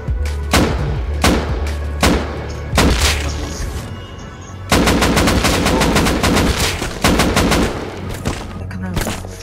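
Gunfire in the survival video game Rust, with loud bursts of rapid automatic shots interleaved with single heavy reports, continuing for several seconds over a constant low rumble and brief background voices.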